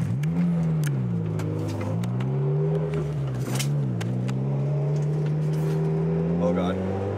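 Several street cars rev and idle as they line up for a street race, their engine tones rising and falling close by while people talk over the noise.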